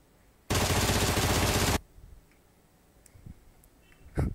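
A single burst of rapid automatic gunfire from a suppressed gun in the mobile game BGMI rattles for just over a second, followed by faint game clicks and ticks.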